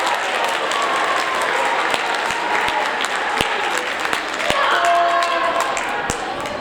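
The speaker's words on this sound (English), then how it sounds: "one more round of applause and then they can head back to their seats" Applause from the audience at a seventh grade awards ceremony: dense, steady clapping from a large crowd, sustained and fairly close, with a few sharper individual claps standing out.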